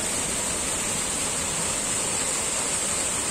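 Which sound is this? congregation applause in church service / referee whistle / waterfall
waterfall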